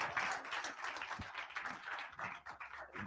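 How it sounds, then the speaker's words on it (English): Audience applause at the live final of a talent competition, a soft, distant wash of many hands clapping that swells and dips without pause. "Give Dan a massive round of applause."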